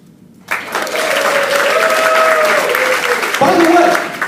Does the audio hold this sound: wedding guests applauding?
yes